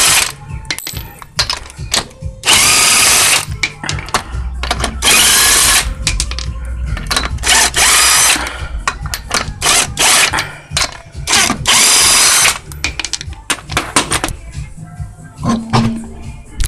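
Power tool bursts, impact wrench style, removing a wheel from a 2002 Chrysler Sebring 2.4L: several loud, broadband bursts of rattling and whirring, separated by short pauses and clinking, close up in a garage.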